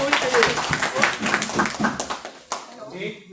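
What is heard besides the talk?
audience clapping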